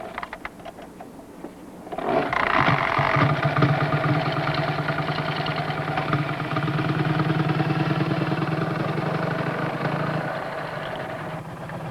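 A motorcycle with sidecar engine starts up after a quiet opening, then runs at a steady, fairly loud idle-like drone with a mid-pitched mechanical hum that holds to the end, no talk over it.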